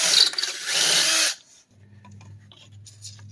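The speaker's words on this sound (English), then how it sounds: "Oh, I should drill a pilot hole." A power drill bores a pilot hole into a metal part of a Chevy LUV engine bay, a loud whirring burst lasting just over a second before cutting off to quiet shop noise.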